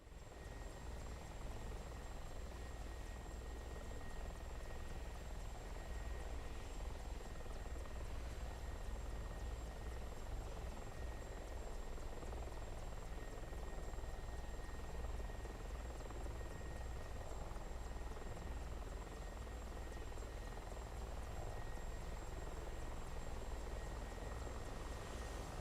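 A Mi-24P Hind attack helicopter in the DCS flight simulator drones steadily during takeoff, its rotor and engine hum continuous and even, with a thin steady whine above and no voices.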